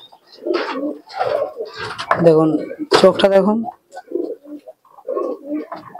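A pet high-flying pigeon coos in soft, repeated low rolling phrases close by, while someone talks over and between the calls.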